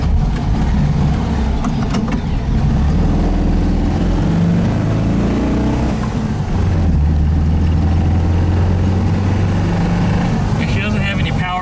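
A 1971 VW Type-3 Squareback 1600 Variant engine pulls under power on a drive, with a steady mid-pitched drone, rising and falling revs, and a suspected exhaust leak and weak running, loud and continuous throughout.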